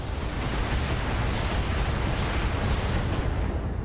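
Mech weapons fire in Battletech as a dense, continuous roar of explosive blasts and rumbling that stays loud and steady throughout, with no talking.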